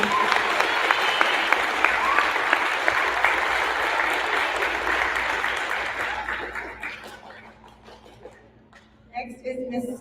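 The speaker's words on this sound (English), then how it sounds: "One more round of applause for these hard workers." Audience applause fills a school awards assembly for sixth graders, loud and sustained for about seven seconds before thinning into scattered claps, with a brief renewed burst at the end.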